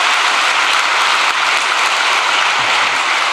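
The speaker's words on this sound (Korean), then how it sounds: "우리 모두 감사의 박수를 올려주시면 고맙겠습니다." A church congregation applauding in thanks during a worship service, loud, dense and sustained clapping from a large gathering, filling the space evenly without any speech on top.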